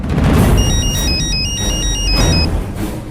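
A mobile phone ringtone plays loudly and steadily through a TV serial scene, a repeating electronic melody of bright tones over low background rumble.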